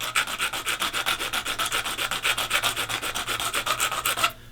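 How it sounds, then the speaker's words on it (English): Shaving brush handle tips being sanded by hand, first on the rough side and then the smooth side: a steady run of close, rhythmic scratchy back-and-forth strokes, about four per second, ending abruptly. "Just sand down those tips where it protrudes."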